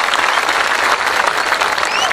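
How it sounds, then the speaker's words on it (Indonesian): A crowd at a religious gathering claps loudly for Mas Andre, a thick, continuous wash of applause close by and filling the whole moment without pause. "Tepuk tangan untuk Mas Andre"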